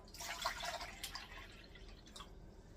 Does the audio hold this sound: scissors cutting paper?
no